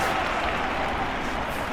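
Crowd applause in the London 2012 Olympics video game, a steady wash of clapping and murmur from a stadium audience, moderately loud and unbroken for the short stretch.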